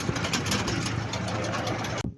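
A tractor engine runs steadily on a farm, a continuous loud low rumble with a knocking texture that cuts off abruptly near the end.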